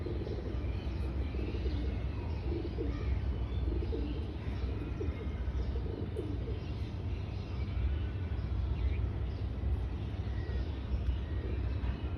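Domestic pigeons cooing softly amid a steady low rumble and broadband background noise, faint repeated coos spread evenly through the stretch, with no talking.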